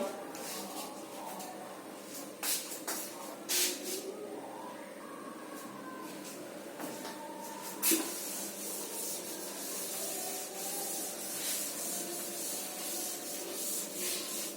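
Writing being rubbed off a board during a maths lesson, heard as soft scrubbing strokes, some brief and some longer, that run into a steady continuous rubbing, close and fairly quiet.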